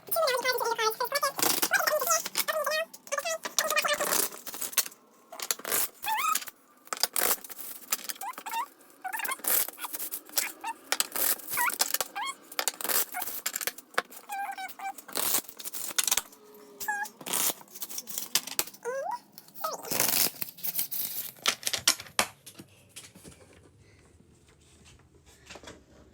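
Moonology and angel oracle cards shuffled by hand, a dense run of rapid riffling, slapping and rustling taps that goes on for more than twenty seconds, close and fairly loud, then fades away.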